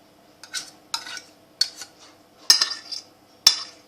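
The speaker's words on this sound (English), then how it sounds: "Then you grab your spoon, you mix it in" Spoon stirring tuna into a pasta bake in a dish, giving a series of distinct scraping clinks of metal against the dish, roughly one every half second, close by and alone.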